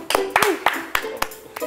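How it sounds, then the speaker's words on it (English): A few people clap at a birthday gathering in a library, giving several irregular sharp claps over about two seconds, with voices mixed in. "give it a clap"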